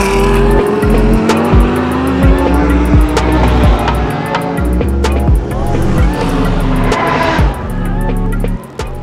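A race car drives hard with its engine roaring loudly and steadily and its tires squealing, a dense, continuous sound over the whole stretch with no talking.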